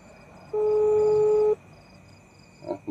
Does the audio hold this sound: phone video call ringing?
yes